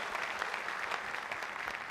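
Brief applause from a concert audience for an orchestra, dense steady clapping at moderate level filling the whole short moment.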